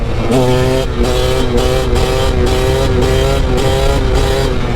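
2009 KTM 250 EXC dirt bike ridden in fourth gear, a loud, close, high buzzing engine note that holds steady under rhythmic pulses of wind buffeting.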